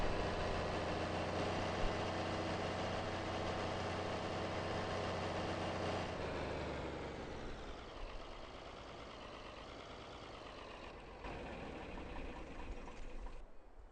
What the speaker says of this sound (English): He did get the sound about right on that tractor.